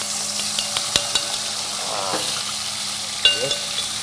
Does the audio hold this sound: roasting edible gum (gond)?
yes